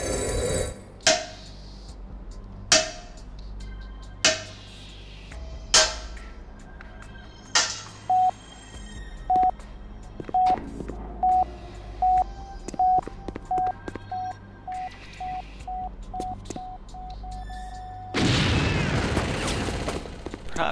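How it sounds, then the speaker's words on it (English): Explosions and gunfire in the video game Chaser: several sharp booming blasts at irregular intervals, then a rapid run of regular shots, ending in a loud sustained roaring burst. "they can see through the explosion going off in front of their faces and still shoot at me"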